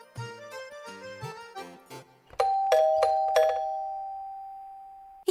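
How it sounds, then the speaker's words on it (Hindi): A melodic electronic doorbell chime plays a short tune, then a few ringing tones that sustain and fade out slowly. "ये घंटी भी है ना, पूरा दिन बजती रहती है।"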